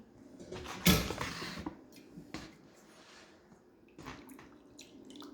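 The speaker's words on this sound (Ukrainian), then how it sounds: "Набираємо теплої водички." Warm water splashes and pours briefly into a glass, with a loud gush near the start and softer trickles and clinks afterward.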